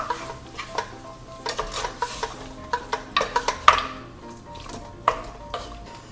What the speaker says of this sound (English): And mix all the sauce.